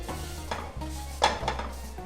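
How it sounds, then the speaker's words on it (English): Onions being stirred in a hot pan over medium-low heat, with a few scraping and clinking strokes of a utensil over a steady low hum and gentle sizzle. "Now I'm going to give that a good little stir really quick"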